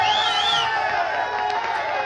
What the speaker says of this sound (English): The cheering guests as well.